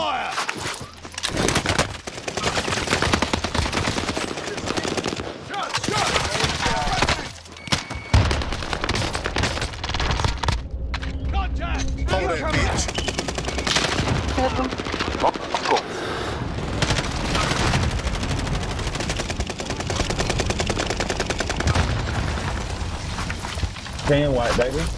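Gunfire in a multiplayer shooter video game, with rapid bursts and volleys of shots repeating throughout, sometimes heavy and dense, while players talk over the action.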